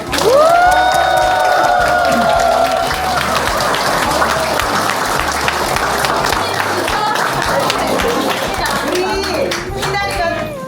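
An audience applauds at a company's 6th anniversary celebration. Sustained, loud, dense clapping with some cheering fills the hall, and a voice speaks over it.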